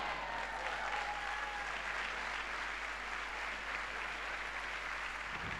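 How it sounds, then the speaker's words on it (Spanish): Church congregation applauding during a Sunday evening service, a dense steady wash of clapping that holds evenly for the whole stretch, with a faint sustained tone underneath. "Dale fuerte ese aplauso al Dios de la gloria."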